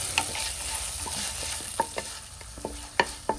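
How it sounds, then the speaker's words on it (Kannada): A spoon of ginger garlic paste fries in oil in a kadai for fish curry, a soft steady sizzle punctuated by sharp metallic clicks and scrapes of stirring. "ಇದಕ್ಕೆ 1 ಸ್ಪೂನು ಶುಂಠಿ ಬೆಳ್ಳುಳ್ಳಿ ಪೇಸ್ಟನ್ನು ಹಾಕಿ ಚೆನ್ನಾಗಿ ಫ್ರೈ ಮಾಡಿಕೊಳ್ಳಿ."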